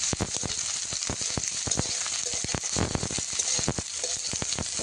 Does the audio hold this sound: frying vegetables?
yes